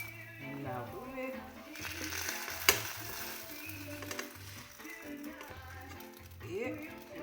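Crêpe batter sizzling in a hot frying pan, a steady crackling fry with scraping and tapping of a utensil, one sharp clack partway through, while a voice speaks in French over it.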